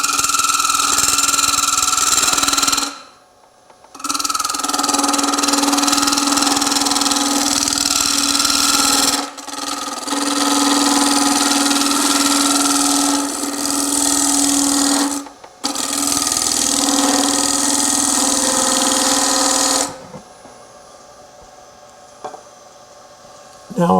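A wood lathe turns a natural edge bowl while a bowl gouge cuts, giving a loud, steady rasping whir with a strong hum, broken by several short pauses where the cut stops, then fading to quiet near the end.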